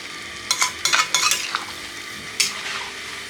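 Aloo dum, a potato curry, being stirred and fried in a pan: a handful of scraping strokes in bursts mixed with a soft sizzle. Close and fairly loud, with no talking.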